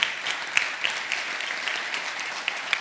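Audience applause at a colloquium on Argentina's potential, steady clapping throughout with a few sharper, louder claps standing out, moderately distant and without any talk.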